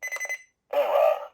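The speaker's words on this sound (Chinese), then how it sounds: "它是一个 Enter 键，但是如果你没有操作对数字直接按的话，它会有一个错误的报音" An error tone from the Enter key of a DX Kamen Rider Faiz Blaster cannon toy, a run of four quick electronic beeps, then a short pause and a longer buzzing tone, loud and close.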